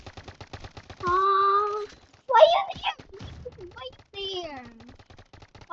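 In the video game Big Paintball 2, a paintball gun fires a rapid, steady stream of light popping shots that runs throughout, partly under voices talking.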